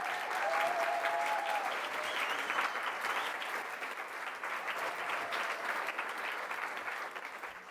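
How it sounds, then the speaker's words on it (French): An evening audience in Marseille gives loud, dense, sustained applause for two guests, one a cofounder of the Drama Queer Football Club, a steady wash of many hands that eases slightly toward the end. "Si vous pouvez les applaudir bien fort"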